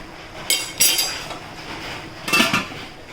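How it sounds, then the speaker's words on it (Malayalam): Metal clinks and a lid clatter in a few sharp bursts as a pot of Kerala olan, a sadya dish, is covered, close by in a quiet kitchen with no speech. "അപ്പോൾ ഒരു 5 മിനിറ്റും കൂടി നമുക്ക് മൂടി വെച്ചേക്കാം."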